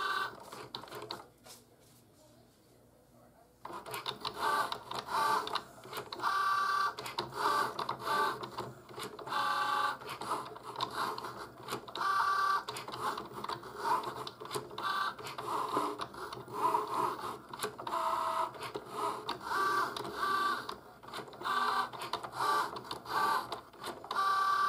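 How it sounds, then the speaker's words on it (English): A Cricut Joy cutting machine cuts out a card, with a steady mechanical whir and hum broken by rapid clicking as the carriage moves. It runs almost continuously after a short quiet gap near the start, with no speech. "Now it's going to cut our card out."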